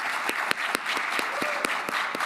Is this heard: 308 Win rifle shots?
no